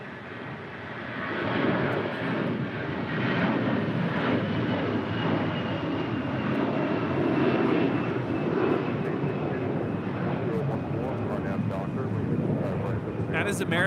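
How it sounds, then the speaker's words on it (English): An American Airlines Airbus A321 departs LAX for Charlotte, its jet engines building into a loud, sustained rumbling roar that swells and holds, with voices talking over it. "That is American 2965 departing to Charlotte on an A321"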